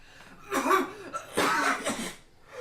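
Two harsh, throaty coughs in quick succession, close and fairly loud, with a short pause between them.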